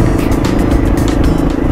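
A motorcycle rides along a country road toward Altötting in Bavaria, its engine droning loudly and steadily up close with rushing wind noise layered over it.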